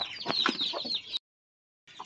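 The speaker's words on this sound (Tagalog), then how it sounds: "yan yung mga manok natin" Farm-raised chickens from second and third batches cluck and chatter together nearby right after being fed, a dense bout of calls that breaks off and then briefly resumes.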